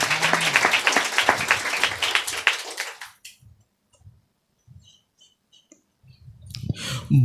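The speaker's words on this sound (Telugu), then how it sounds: "ఒకసారి చప్పట్లు కొట్టి ప్రభువును ఘనపరచుదుగాక." A church congregation at a Sunday service claps hands together, a loud dense burst of applause for about three seconds that stops abruptly, followed by quiet with faint scattered sounds.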